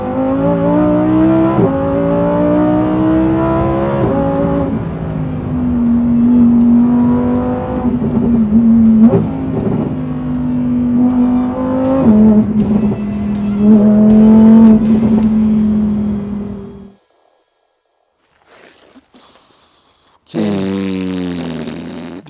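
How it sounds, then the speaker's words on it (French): Lamborghini Huracán Tecnica with its naturally aspirated 5-litre V10 revving hard and loud, rising and falling through gear changes for about seventeen seconds, then near silence before another sharp burst of engine roar. "ce V10 atmosphérique de 5 litres"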